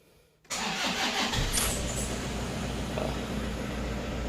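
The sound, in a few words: car engine starting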